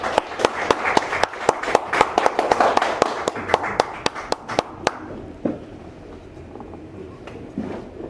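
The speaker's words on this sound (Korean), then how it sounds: "박수로 안내해" An audience at a lecture event gives a round of applause, sharp individual claps rapid and loud at first, then thinning out to scattered, quieter claps as it fades.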